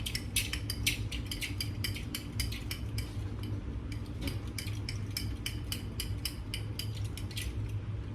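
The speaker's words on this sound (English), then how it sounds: "And you're just gonna stir that up." A spoon stirring a mixture in a bowl for Nimbus 2000 crackers, with rapid repeated scraping clinks of utensil against bowl throughout, close and moderately loud, over a steady background hum.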